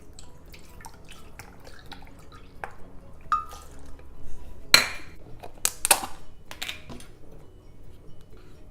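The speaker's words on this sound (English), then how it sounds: "I'm gonna put 1/3 cup of the lemon juice." Lemon juice poured over a sink while making hummus from canned chickpeas, heard as soft drips and liquid trickles with light clinks of dishes and utensils, moderately close and without talk.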